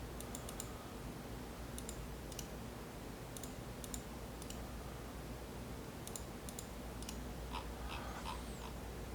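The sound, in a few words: computer mouse clicking while editing a design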